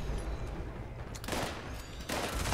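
Bloodied explosive minigun firing in Fallout 76, a rapid burst of shots with explosive impacts, fairly faint and dense.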